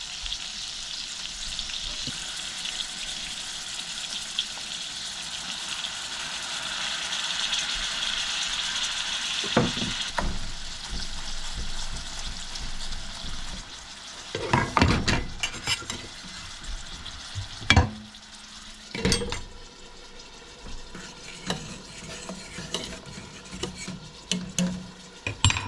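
Ground beef, liver and a little rice fry in a pan in a cabin kitchen in remote Alaska, a steady sizzle first, then louder scraping and clattering stirring bursts near the end.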